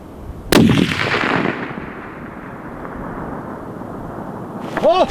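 A long-range hunting rifle fires once, a sharp loud crack with a rolling echo that decays over about a second, followed by quieter field ambience and faint voices near the end.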